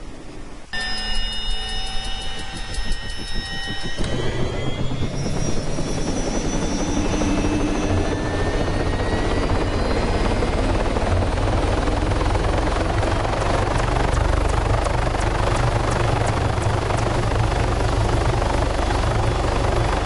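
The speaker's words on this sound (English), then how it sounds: "Good chopper there on high speed." Helicopter in the video game Arma 3 flying at high speed, a loud, steady rotor and turbine roar that starts after a few electronic beeps and holds through the whole stretch with no talk.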